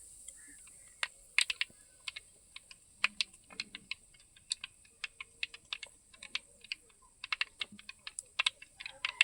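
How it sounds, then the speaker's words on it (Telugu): Mustard seeds splutter in hot oil with fenugreek and cumin in a village kitchen, a quiet scatter of sharp irregular pops and crackles continuing throughout. "ఆవాళ్ళు చిట్టుపట్లు ఆడేసి"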